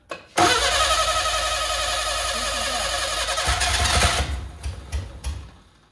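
A Ford Anglia's four-cylinder engine, fitted with a Weber carburettor, cranks and catches, then idles loudly with a rough, steady drone and revs briefly before cutting off and sputtering into silence.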